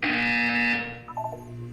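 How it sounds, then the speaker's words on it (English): Electronic buzzer from the Portal 2 video game, a loud harsh sustained tone lasting under a second, then fading into quieter chiming game tones. "When you hear the buzzer, look up at the ceiling."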